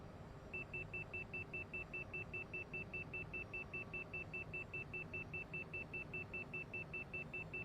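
In Tailstrike Air World Tour, an airliner's overspeed warning repeats as a rapid, steady series of high electronic beeps over a continuous low engine rumble, running unbroken after a brief lead-in.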